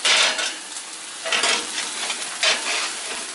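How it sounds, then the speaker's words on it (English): Turkey cooking in a pan, a bright hissing sizzle that swells in several bursts as it is stirred, close and loud, with no talking. "Also cooking the turkey."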